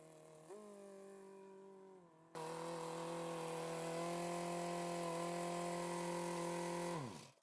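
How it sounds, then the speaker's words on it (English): A bandsaw runs continuously while rounding wood bowl blanks for the lathe, its steady whine jumping louder as the blade bites into the wood and holding there, with no talking. "why not go and round the stuff on the bandsaw now and get it ready for the lathe"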